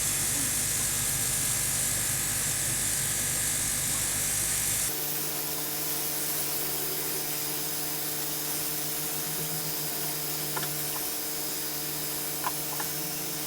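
Luminess Air airbrush makeup device blowing a steady hiss of air, loud and close for the first five seconds, then dropping to a quieter continuous airflow with a few faint clicks.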